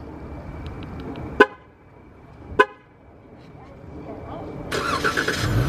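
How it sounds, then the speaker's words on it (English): A brand-new car started by remote start: two short horn toots a second apart, then quiet before the engine fires up and settles into a steady running rumble near the end. "I always wanted a remote start car"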